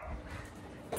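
A dog barks and whimpers close by in a short indoor burst, a few quick yips over a low background hum, with no talking.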